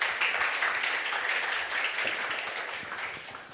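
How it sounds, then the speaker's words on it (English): Applause from a conference audience at a blockchain developer event, a broad continuous patter of clapping that slowly fades toward the end, with no clear speech over it. "So please a round of applause from Tomek, for Tomek."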